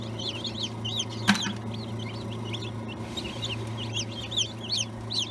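Chicks newly hatched in an incubator cheep repeatedly in short, high, rising peeps over a steady low hum, with one brief louder knock partway through.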